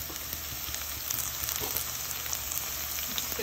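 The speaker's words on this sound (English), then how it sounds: "So all you're doing is just softening your onions and the carrots." Onions and carrots soften in olive oil in a pan, a steady close sizzle with fine crackling pops, continuous and even with no talk.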